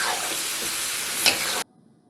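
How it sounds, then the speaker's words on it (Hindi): About three tablespoons of whisked yogurt frying in Lahore-style chicken karahi gravy, giving a loud, continuous sizzle with stirring scrapes that cuts off abruptly into quiet. "ये फेटा हुआ दही है, तकरीबन 3 टेबल स्पून, और अब हम इसकी भुनाई करेंगे।"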